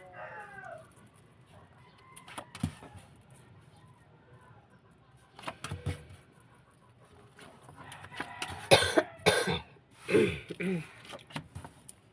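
A few harsh, close coughs break out, scattered at first and then clustered in a rough burst near the end, over faint background noise.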